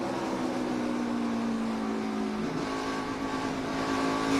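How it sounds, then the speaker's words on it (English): NASCAR Xfinity Series race car at Bristol, engine droning steadily with a slight dip and recovery in pitch as the throttle is worked through the corner, heard continuously and fairly loud with no talk. "You hear him working the throttle just a little bit through the center to make the car rotate."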